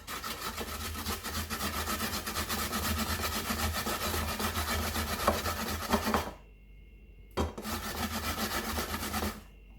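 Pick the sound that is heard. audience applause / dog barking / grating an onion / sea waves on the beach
grating an onion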